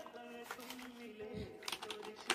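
Keys clatter on a Logitech K120 USB keyboard in quick irregular bursts of clicks, close and moderately loud, with a person talking over the typing.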